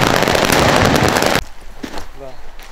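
Fireworks going off outdoors, a dense loud burst of rapid crackling bangs filling the first half, then cutting off abruptly to quieter background with a few scattered pops and some voices.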